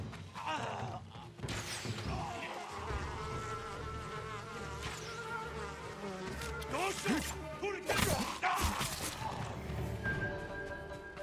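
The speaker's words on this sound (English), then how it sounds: "The bees!" Buzzing bees in Ghost of Tsushima hum and drone close by, layered over game ambience with soft hoof-like thuds and brief bursts of noise.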